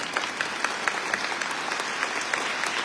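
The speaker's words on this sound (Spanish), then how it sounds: "Démosle un fuerte aplauso a la palabra de Dios." A church congregation at a Spanish-language Mass gives a warm round of applause, steady and moderately loud, with no speech over it.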